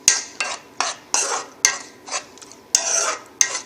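Leftover sambar and rice are stirred in a pan in repeated scraping strokes, about eight close, distinct swipes of a spoon against the metal at an uneven rhythm, with no talk.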